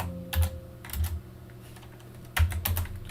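Typing on a computer keyboard while entering router configuration commands: a few short bursts of close, distinct key clicks separated by brief pauses.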